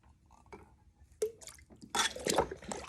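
Rinseless car wash concentrate is poured into a bucket, with a few soft drips and then a close, splashing trickle of liquid that grows fuller toward the end.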